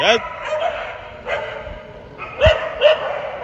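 A few barks from dogs chasing a vehicle in the morning ring out over someone speaking, with a couple of sharper yips near the end.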